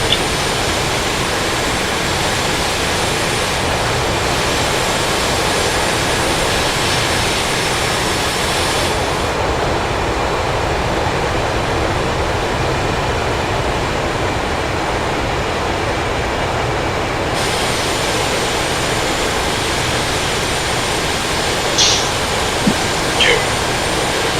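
An Su-25T Frogfoot jet taxiing in DCS World, a steady, loud jet engine whine and roar that holds evenly, with a brief shift in tone midway and a voice talking over it.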